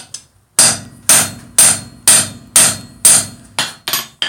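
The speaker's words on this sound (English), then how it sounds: "And then I cold set the rivet. This is just a piece of standard 3/8 mild steel rod." A hammer cold-sets a rivet made from 3/8-inch mild steel rod on a pair of bolt tongs. Eight sharp, loud, evenly spaced blows land about twice a second after a brief quiet start.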